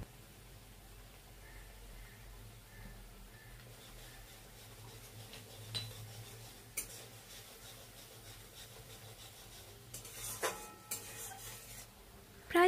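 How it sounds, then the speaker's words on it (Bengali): Fish masala gravy being stirred and sautéed in a pan, a soft scraping and faint sizzle running steadily, with a few louder clinks and scrapes of the spoon toward the end. "সেই মশলাটাই জল দিয়ে ধুয়ে আমি মশলাটার মধ্যে দিয়ে কষিয়ে নিচ্ছি"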